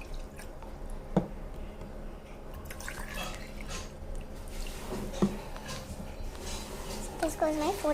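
Water from a glass is poured into a cooking pot in a home kitchen, giving drips, splashes and a trickling fill that swell toward the end, with light kitchen handling noise throughout.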